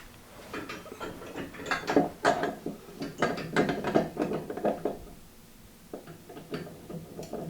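A basin tap fitting is tightened from underneath, giving a series of close ratcheting clicks and metallic rattles in irregular bursts, fading near the end.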